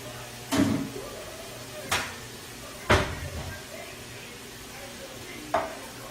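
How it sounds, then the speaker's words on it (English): Meat for Hungarian goulash sizzles quietly in a frying pan under a steady hiss, with a few sharp pops and clatters at scattered moments. "You hear it sizzle. The minute it hits the pan"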